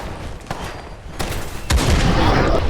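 A Fallout 4 video game battle where several sharp gunshot-like cracks ring out, then a heavier blast swells into a sustained, rumbling roar at the end.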